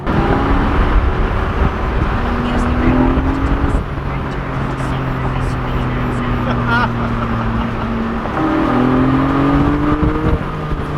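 A Porsche 718 sports car's 4-liter engine revs and accelerates through gears, rising pitch then dropping at each shift, loud and close over road rumble.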